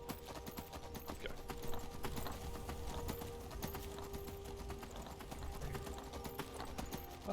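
Horse hooves clip-clopping in the video game Skyrim, a fairly quiet but steady run of hoof strikes with faint game ambience behind it.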